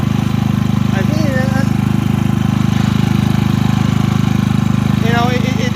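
A Predator 3500 generator engine runs steadily after break-in with its charcoal canister removed, a loud, even, mid-pitched drone throughout with faint chirps above it.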